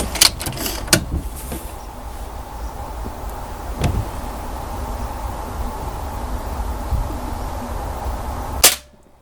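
Beeman 1357 air pistol fired while zeroing on a target, several sharp close pops and clicks early, one more a few seconds later, then a loud final crack over a steady background hum.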